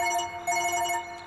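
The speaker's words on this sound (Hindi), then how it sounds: "फोन है।" A telephone rings with a steady electronic trill, a short burst repeating twice close together, fairly clear and alone, with no talking.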